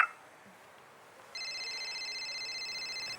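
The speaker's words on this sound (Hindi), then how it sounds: "मेरे बॉस का फ़ोन है" A telephone starts ringing partway through after a short quiet stretch, a steady electronic trill that holds at an even level to the end, with no one speaking.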